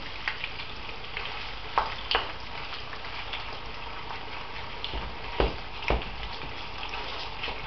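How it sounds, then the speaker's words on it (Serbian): Chicken and onion fry in a pan with a steady, close sizzle, broken by a few sharp scraping stirs and spatters. "Piletinu pržimo sve dok ne promeni boju."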